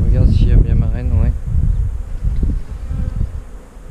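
Honeybees buzz at an opened hive, a dense continuous drone close by, with a person's voice briefly heard at the start over the humming.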